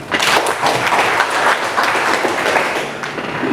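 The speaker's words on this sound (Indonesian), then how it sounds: "Kita boleh tepuk tangan dulu." Audience applause at an official working-visit gathering in Raja Ampat, a dense, steady wash of clapping that stays loud and close throughout, with no voices rising above it.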